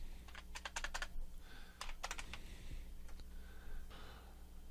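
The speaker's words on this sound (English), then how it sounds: "I'm going to just type in my name" Someone types a short name on a computer keyboard during a PyCharm install on Ubuntu, with quick clusters of close, quiet key clicks separated by brief pauses over a faint background hum.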